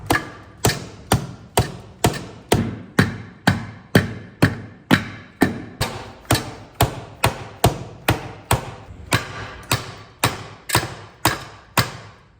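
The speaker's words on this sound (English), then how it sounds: "I'm just gonna hammer a little bit of relief in where it's been hitting on here" A hammer strikes a metal part over and over at a steady, quick pace while a new GM clutch slave cylinder is fitted, each blow a sharp ringing clank followed by a brief decay, about two hits per second.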